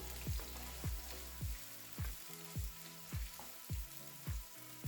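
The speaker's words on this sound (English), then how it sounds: "Add some of the chopped onions we set aside earlier. Fry till translucent." Chopped onions frying in red palm oil for Nigerian egusi soup, heard as a soft background sizzle broken by regular soft knocks or scrapes, about two each second, at low volume.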